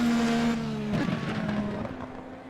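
An IndyCar-style race car at Laguna Seca roars past, its high engine whine sliding downward in pitch as it goes by, then fading as it moves off into the distance.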